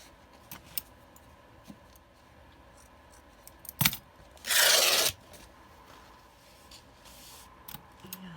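Paper tears in one brief, loud rip near the middle, surrounded by faint crinkles, taps and handling noises in a quiet room.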